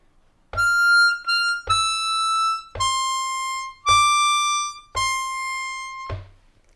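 A C harmonica plays a slow line of Happy Birthday, six sustained reedy draw and blow notes, each clearly separated by short breaths, bright and close with no talking.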